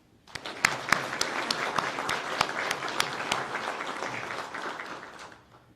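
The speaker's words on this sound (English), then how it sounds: "please give them a round of applause for their hard work as well" An audience at a law enforcement academy graduation applauds the class, a moderate, even round of clapping from a hall crowd that swells quickly, holds steady and tapers off.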